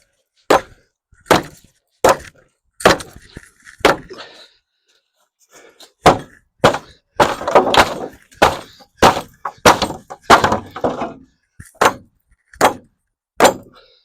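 A real edged knife strikes a protective vest again and again, giving a series of sharp, loud stabbing impacts with brief gaps. The blows come in an irregular rhythm and are heard alone, with no talk.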